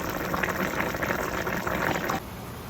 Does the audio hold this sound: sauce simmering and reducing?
yes